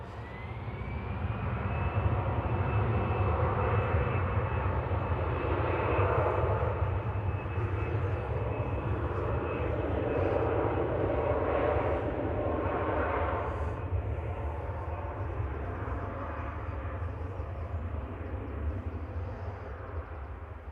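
An easyJet airliner bound for Bodrum taking off at Manchester Airport, heard from a distance as a sustained jet engine roar with a rising whine that swells early and then holds, the sound heard on its own with no one talking.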